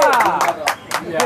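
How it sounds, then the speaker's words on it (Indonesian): Short, loud, rhythmic bursts of hand clapping at an event, about five claps in quick succession, mixed with a talking voice. "Tepuk tangan."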